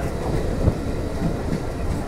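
A passenger train on the Agartala to Silchar line rolls along the rails with a steady loud rumble and faint clickety-clack of wheels, heard close from inside the carriage in rain.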